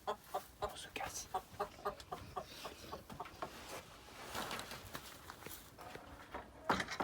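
Hens cluck in a farmyard, a run of short, regular clucks close by at a fairly quiet level, with faint footsteps and some soft talk mixed in.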